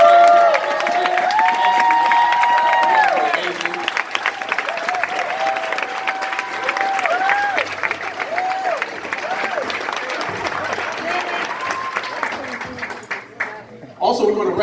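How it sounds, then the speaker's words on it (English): A conference audience gives a round of applause, sustained crowd clapping with some cheering that stays loud for most of the stretch before tapering off, with a voice speaking over it. "Let's give them a round of applause once again."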